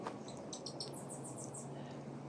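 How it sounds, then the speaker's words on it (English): A hummingbird singing from up along the eave of a cottage garden, a quick series of thin, high chirps, faint and somewhat distant against a quiet outdoor background. "can you hear the hummer singing up there?"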